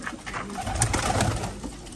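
Pigeons coo in soft, throaty, rolling calls, fairly close, with steady low murmuring throughout.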